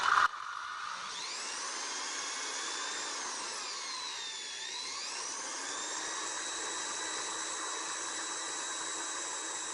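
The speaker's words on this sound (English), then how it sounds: "I'm pulling back a little while I'm running the drill." A power drill spinning an engine valve for lapping whirs steadily and continuously, its pitch dipping briefly midway before holding steady, fairly quiet with no speech.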